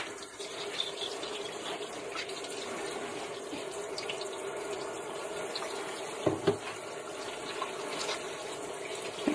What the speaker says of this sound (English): Remember, wash your hands.